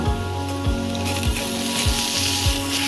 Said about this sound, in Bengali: এবার এঁচড়গুলো দিয়ে দেবো ভাজা হওয়ার জন্য